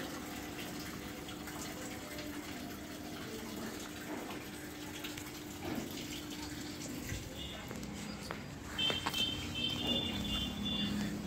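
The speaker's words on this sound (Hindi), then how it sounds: "यहाँ पे देख सकते हैं मशीन पानी लगातार ले रही है।" An LG top-load washing machine continuously filling with water because of a loose spring on the damper, a steady faucet-like flow and hum throughout, with a brief mechanical clatter near the end.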